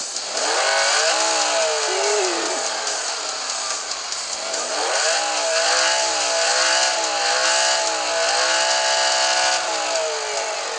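A small four-door car at a torque burnout event revs its engine hard and steadily, a loud, buzzing, chainsaw-like roar that rises and falls in pitch over about eleven seconds, close by.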